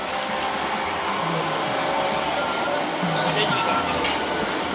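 Train 139 from Bangkok passes Chiang Rak Noi station at night with a steady, loud rumbling roar that holds evenly throughout.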